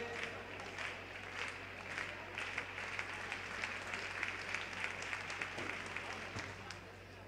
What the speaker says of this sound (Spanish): Nos pide palmas también a Arena de Marín.